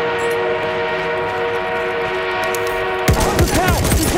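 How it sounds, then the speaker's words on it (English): An armored train rolls through a video game battlefield, a loud sustained mechanical drone with a whistle-like tone, then sudden sharp gunfire and explosions break in near the end. "We have an armored train en route."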